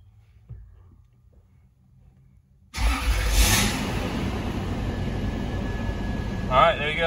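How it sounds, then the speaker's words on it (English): A turbocharged Nissan 370Z running on E85 pulls hard through third gear toward redline, its pitch climbing steadily toward a high scream before a brief dip and another long rising run. "start the vehicle, make sure the battery light"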